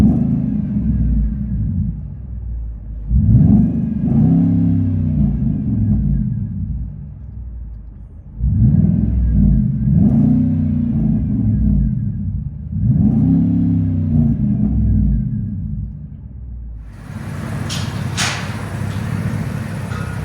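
A straight-piped 2010 Ford F-150 with a 5.4L Triton V8 revs in several repeated bursts, deep rumbling blips rising and falling from a steady idle, loud and close.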